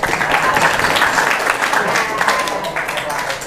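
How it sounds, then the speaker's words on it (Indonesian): An audience at a Ramadan afternoon gathering claps steadily for several seconds with crowd murmur mixed in. "Silakan beri tepuk tangan."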